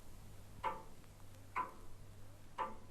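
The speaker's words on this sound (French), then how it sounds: "Sur le cadran de l'horloge, l'heure fatidique approchait" Three evenly spaced ticks from a clock, about one per second, faint and isolated against a low steady hum.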